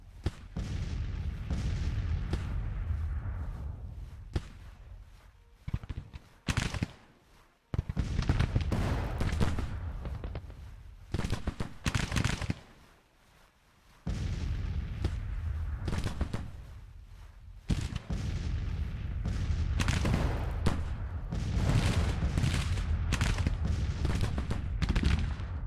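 Artillery and musket fire in the American Civil War strategy game Grand Tactician: The Civil War, rolling booms and crackling volleys in long waves with short lulls between them, continuous and fairly loud.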